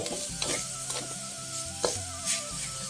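Beef that was blanched beforehand hits a hot pan and sizzles loudly as it is stir-fried, a steady close frying hiss broken by repeated scraping stirs.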